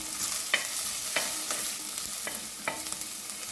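Crushed shallots and garlic sautéing in a pan for a drumstick soup, a steady sizzle with several sharp stirring scrapes of a spoon at regular intervals, close and alone.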